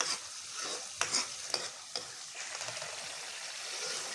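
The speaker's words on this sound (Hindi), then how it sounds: "इसको भूनो, इसमें सालन चला बेटा" Potato and egg curry fries in a pan, a soft steady sizzle marked by several sharp scrapes and taps of a spoon as it is stirred, close and fairly quiet with no speech.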